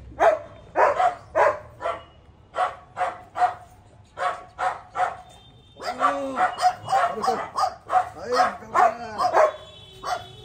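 A jet black dog barks repeatedly in short, loud bursts with a few higher yips, close by, while someone talks over the barking.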